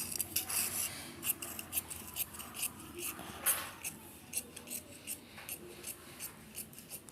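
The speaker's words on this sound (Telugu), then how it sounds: "ఇలా కటింగ్ చేసుకుంటూ వెళ్ళిపోవటం" Scissors rasping through blouse fabric for a boat-neck blouse, a steady run of close, crisp snips and rubbing strokes repeating for several seconds, with no talk over them.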